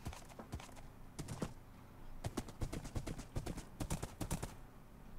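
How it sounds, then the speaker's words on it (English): Horse hooves clip-clop in Minecraft, a run of sharp, fairly close, uneven hoofbeats that come in bursts over a steady low background with no talk. "I haven't used a horse in Minecraft in forever."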